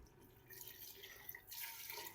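Water is poured from a mug into a cooking pot of aloo chicken korma, giving soft splashing and trickling bursts that fade in and out, quiet and close, with no talking.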